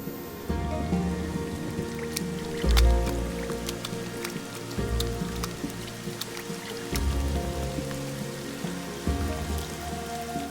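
Rain drops falling in the desert, a steady close patter of drops with occasional heavier splats and low rumbles underneath, continuous and fairly loud with no speech.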